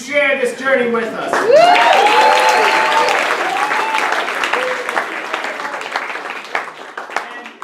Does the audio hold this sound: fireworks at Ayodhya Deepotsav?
no